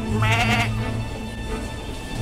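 A goat bleats loudly once in a quavering, wavering cry at close range, followed by a fainter second bleat over a low background hum.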